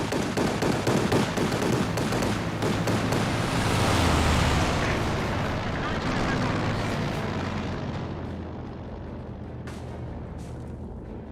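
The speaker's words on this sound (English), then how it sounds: "We do have a strafing run here." Strafing run in the strategy game Company of Heroes 2, a dense roar of rapid aircraft gunfire and blasts that swells, peaks, then fades away, with a caster talking over it.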